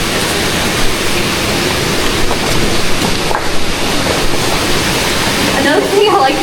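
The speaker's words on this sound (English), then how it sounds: "that's Lost Creek Falls. That's the waterfall." Lost Creek Falls, a waterfall in a cave and wilderness gulf setting, roars as a steady, loud broadband rush of falling water that fills the whole stretch without a break.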